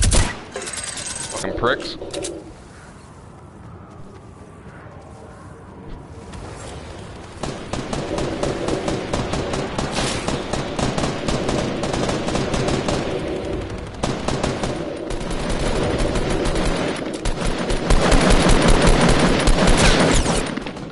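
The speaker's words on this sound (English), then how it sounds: "Eat my minigun!" A minigun fires in a battle royale game, with long rapid streams of loud gunfire that build toward the end. A man swears briefly under the shooting.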